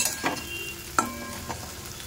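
Potatoes frying in a pan for a home-cooked dinner, a soft steady sizzle broken by a few sharp scraping stirs of a spoon against the pan, close and alone with no talk.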